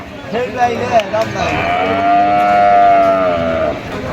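Cross-breed cattle at a livestock market in Manikganj give a long, drawn-out low moo up close, with a few shorter calls before it.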